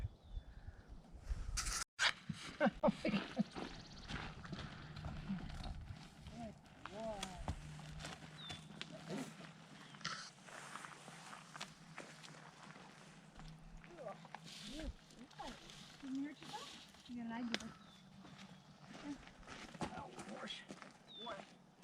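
A horse walks on a ranch breakfast trail ride, its hooves clip-clopping steadily up close while people chat nearby and a horse occasionally snorts.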